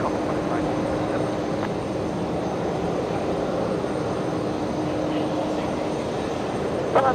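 Airliner taking off from runway 01 right at Brisbane Airport, a steady broad roar of jet engines held at constant loudness throughout, with stormy weather around and no talk.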